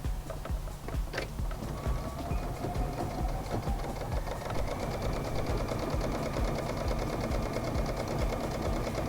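A sewing machine runs a triple stitch at 3.5 stitch length along a seam allowance while a turtleneck is turned into a top. It makes a steady, continuous mechanical whir that stays loud and close, with no talking.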